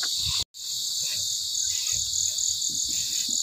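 Crickets chirp steadily through an evening after rain, a dense continuous high trill broken only by one brief gap, with low rustles and faint handling noise underneath.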